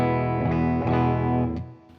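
An electric guitar, a Peavey Vortex 2 played through its bridge pickup, rings out in sustained overdriven chords with a few chord changes, then fades away near the end.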